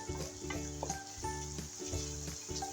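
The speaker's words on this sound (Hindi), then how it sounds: "इसको थोड़ी देर के लिए फ्राई होने देंगे।" Aloo gobi, potato and cauliflower, frying in a pan, giving a quiet, steady sizzle with a few soft stirring scrapes and clinks at close range.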